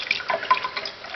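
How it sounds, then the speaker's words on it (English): Antifreeze poured down a house drain gives a brief, close trickle and splash of liquid running into the pipe. "Simply pour the antifreeze down the drains."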